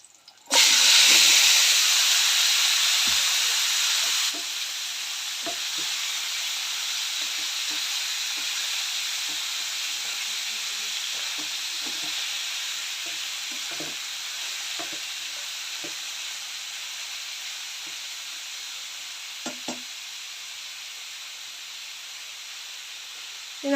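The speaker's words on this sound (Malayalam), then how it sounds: "ഇനി നമുക്ക് നെക്സ്റ്റ് ഇതിലോട്ട് നമ്മൾ എടുത്തു വെച്ച് ചിക്കൻ ഇട്ട് കൊടുക്കാം." Chicken pieces dropped into a hot pan for a chicken roast, a loud burst of sizzling that settles into a steady hiss of frying, with occasional stirring scrapes and light clinks throughout.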